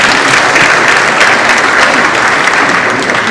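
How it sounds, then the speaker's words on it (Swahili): A crowd at a university event in Kenya gives loud, sustained applause, dense overlapping clapping that stays even throughout with no one speaking over it. "Tuwapigie makofi"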